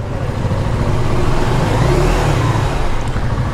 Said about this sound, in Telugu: ఎగ్జాస్ట్ సౌండ్ ఒకసారి వినిపిస్తా.